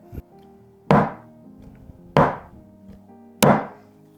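A pan of lemon cake batter being rapped down on a counter, three evenly spaced, solid thuds with short ringing decay, close and clear with no talking.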